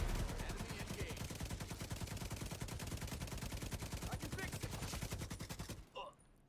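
Sustained automatic fire from the Pakhan LMG in The Division 2, a loud, rapid stream of shots running nearly six seconds before cutting off abruptly, followed by a brief faint tail.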